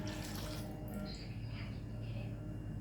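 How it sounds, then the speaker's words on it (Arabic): A cup of milk is poured into a bowl of sugar, giving a soft, steady liquid splash close by at low volume that continues throughout. "وهنحط كوباية اللبن"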